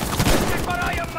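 Gunfire in Battlefield V on the Rotterdam Conquest map comes as a dense, rapid burst of shots, loud and continuous throughout, with what may be a voice underneath.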